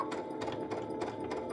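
Baby Lock Unity sewing machine stitching corded pintucks with a 3mm twin needle, a quick rhythmic patter of stitches, close and quiet, brief and alone.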